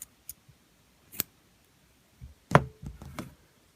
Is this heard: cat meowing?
no